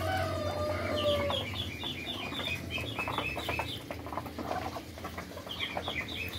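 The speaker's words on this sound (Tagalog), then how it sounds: "yung mga alaga natin na Muscovy ducks." Muscovy duck breeders at feeding time on a farm make continuous busy clucking, chirping and peeping sounds against steady background noise, with no talking.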